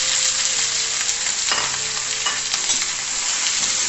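Finely chopped banana stem sautés with ginger and garlic in hot oil, giving a loud, continuous sizzle with a few scraping stirs of a utensil through the pan.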